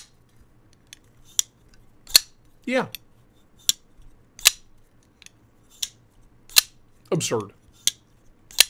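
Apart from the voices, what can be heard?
titanium framelock folding knife clicking open and shut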